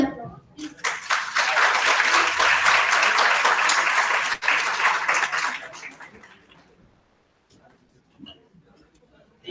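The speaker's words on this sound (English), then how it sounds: "So with a huge round of applause, let's welcome Mr. Gaurish Tripathi sir, Joint Director, DRDO, Lucknow." An audience claps loudly in dense, sustained applause to welcome a joint director of DRDO Lucknow onto the stage, then the clapping fades to a few scattered claps and near silence.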